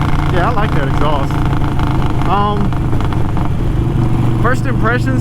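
A Harley-Davidson Sportster motorcycle engine rumbles with a throaty exhaust note, revving up and down close by, while someone speaks over it.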